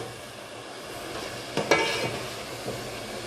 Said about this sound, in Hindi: तब तक हमें भूनना है, भूनते रहें।